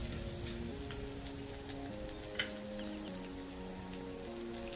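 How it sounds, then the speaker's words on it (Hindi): Mustard seeds, fennel and green chillies fry in oil over a medium-low flame, giving a soft, even sizzle with scattered crackles and one sharper pop, faint under a steady musical backing. "अब इसमें मस्टर्ड सीड्स ऐड करेंगे, सौंफ डालेंगे और हरी मिर्च भी ऐड करेंगे और 1 से 2 मिनट इसको भूनेंगे मीडियम लो फ्लेम पर"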